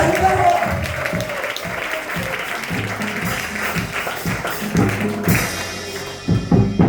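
A church congregation claps and cheers during a worship service, dense rhythmic applause beneath a preacher's loud voice and music, with thumps toward the end.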